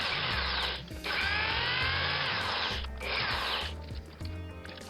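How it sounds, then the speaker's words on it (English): A power drill whines loudly in three long bursts with brief pauses between, grinding into a die-cast metal toy car up close. "So I ended up I had to drill it"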